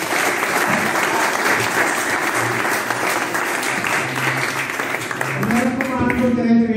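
Audience at a book presentation claps steadily in a full, sustained round, with murmured voices and a tonal sound rising beneath it toward the end.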